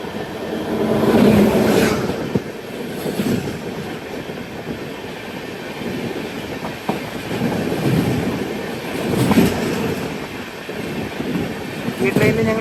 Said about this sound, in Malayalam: കേരളത്തിൽ നിന്ന് ബീഹാറിലേക്ക് പോകുന്ന ഒരു ട്രെയിനാണ് ഈ വരുന്നത്